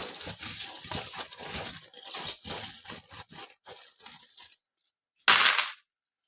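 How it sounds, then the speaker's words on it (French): Small divination charms shaken and jostled together, a dense rattling clatter that stops, then after a short silence a brief bright burst as they are tossed out, nearby and with no speech. "on va terminer avec un petit tirage express avec les charms pour voir un petit peu ce qui ressort"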